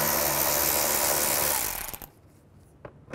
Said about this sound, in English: I'm going to use a T20 socket to remove them